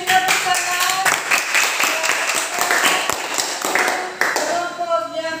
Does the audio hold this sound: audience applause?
yes